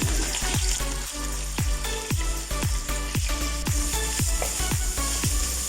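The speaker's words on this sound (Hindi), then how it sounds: "अब चिकन को फ्राई करेंगे जो ब्रिक ब्रिक चॉप कर लिया था मिलाया" Chopped chicken fries in oil with a busy sizzle, broken by regular scraping strokes of a spatula in a quick repeating rhythm. Each stroke lands close and sharp over a low steady rumble.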